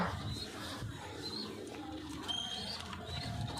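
Soft pigeon cooing murmurs in the background with faint higher chirps from other birds, fairly quiet and continuous.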